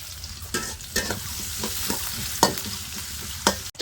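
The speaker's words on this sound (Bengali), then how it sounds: "তেলের ওপরে পেঁয়াজ কুচি দিয়ে দিচ্ছে পেঁয়াজ কুচিটা হালকা একটু ভেজে নেবে" Chopped onion frying in oil for a jackfruit and prawn curry sizzles steadily up close, broken by several sharp stirring clatters of a spatula against the pan, with no talk.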